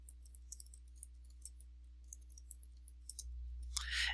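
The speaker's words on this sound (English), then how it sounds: "So I'm going to go ahead and type my email address in the BCC." Someone types an email address into the BCC field, with light keyboard clicks tapping in an uneven rhythm over a quiet hum. It is faint and close, and a brief louder rustle comes at the end.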